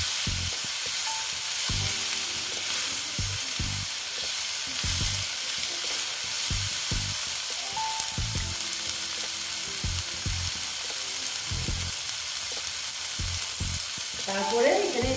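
Ghugni of boiled chickpeas sizzles steadily in a pan as tomatoes are stirred in, with repeated soft scraping and clunking strokes throughout and a louder clatter at the very end; no speech.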